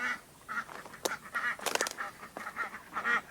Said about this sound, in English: That's that little duck right there.